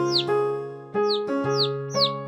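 Cartoon birds chirping in a kids' show, four quick descending tweets spaced evenly over a steady sustained musical tone.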